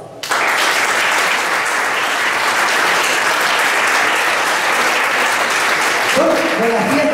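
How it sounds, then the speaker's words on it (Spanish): A large crowd at a day-centre anniversary party in Gáldar breaks into loud, sustained applause that starts abruptly and holds steady, many hands clapping together, with a voice beginning faintly near the end. "Ustedes se merecen también, de la parte nuestra, ese gran aplauso."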